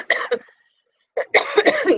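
A person coughs several times in short bursts, close and clear, during a guided breathing and meditation exercise; a brief pause of silence separates the first coughs from a louder, rougher cluster.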